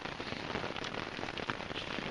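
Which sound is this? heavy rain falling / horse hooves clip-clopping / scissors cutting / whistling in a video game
heavy rain falling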